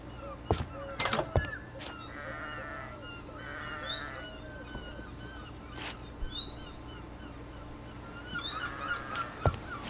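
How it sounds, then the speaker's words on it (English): Sheep bleating in Minecraft, with several wavering, sickly bleats scattered over a steady game ambience, along with a few sharp clicks and thumps. "Man, these sheep sound sick,"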